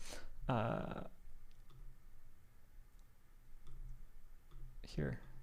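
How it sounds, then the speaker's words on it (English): Quiet, sparse clicks of a computer mouse being right-clicked, with a person talking in short bursts near the start and at the end. "just right clicking, I'm hitting combine"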